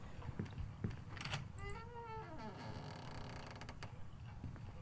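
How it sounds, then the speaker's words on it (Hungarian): In a horror video game, a door creaks open with a long, close, rising and falling wooden groan lasting a couple of seconds, followed by faint mechanical rattles over a low background; no one speaks. "Ennél jobban nyithattad volna azt az ajtót."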